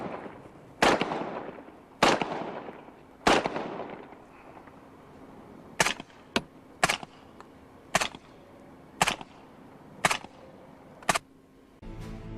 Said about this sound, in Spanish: Empleando munición subsónica, el nivel sonoro de sus disparos se reduce a poco más del chasquido metálico producido por el cierre